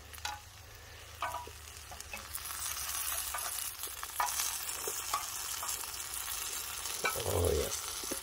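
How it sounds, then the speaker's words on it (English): Black pudding and tomatoes fry in bacon fat on an outdoor cooking surface, a close, steady sizzle rising after the food goes in, with scraping stirs and a light metallic clink near the end. "I'm going to put the black pudding into the fat of the bacon and the tomatoes probably"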